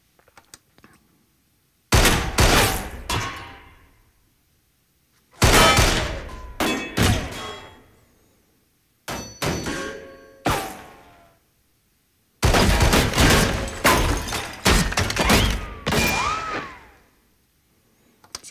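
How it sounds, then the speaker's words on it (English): Layered bullet ricochet sound effects for a TV action scene: sharp loud bursts of shots and whizzing ricochets in four separate clusters, each with ringing decays and silent gaps between. "Here's another kind of fun set of tracks are all the ricochets for this scene."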